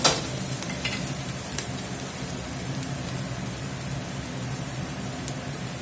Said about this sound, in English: I'm going to smash these tomatoes up here just a little bit.